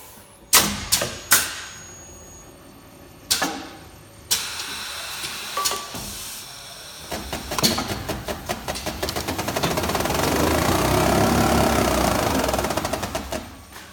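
A label machine finishing a cut on a roll of 50 by 25 labels on a 1 inch core: a few sharp mechanical clicks and clunks, then a rising, rapid whirring run that grows louder and steadier, with no talking.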